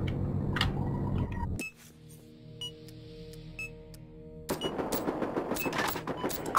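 Gunfire in the Battlefield Hardline multiplayer beta on the Dustbowl Conquest map: several sharp shots burst out among busy game effects, with a quieter stretch in the middle before the dense mix of shots and noise returns.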